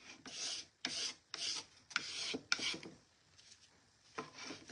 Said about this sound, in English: give it a little bit of a sanding